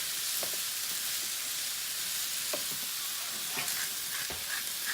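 Potatoes frying in a pan for a frittata, giving a steady close sizzle throughout with a few soft scrapes and light clicks of stirring.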